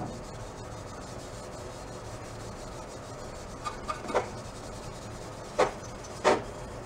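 Fine steel wool is rubbed over a worn Honda Trail 70 motorcycle wheel, making a soft continuous rasping close by, with a few sharper scrubbing bursts toward the end.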